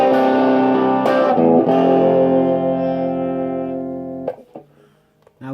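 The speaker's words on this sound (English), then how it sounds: "Overdrive, notice the drive, it is absolutely flat out, nuts to the wall" An electric guitar playing through an overdrive pedal at full drive, with thick, buzzing sustained chords that ring and slowly fade, then a few short choppy strums near the end.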